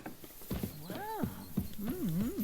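A horse neighs and whinnies with rising and falling cries in the medieval video game Kingdom Come: Deliverance II, fairly close, over soft ambient noise.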